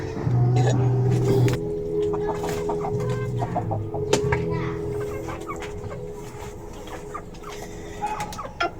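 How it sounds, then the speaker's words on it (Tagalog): A chicken raised in Calamba clucks near and steady over a busy farmyard background with traffic-like hum, and a voice talks intermittently across it. "So ito yung manok na galing sa Calamba"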